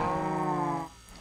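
Cattle lowing in Minecraft Bedrock Edition, one sustained harmonic moo that holds steady for most of a second, then drops away into quiet farm ambience.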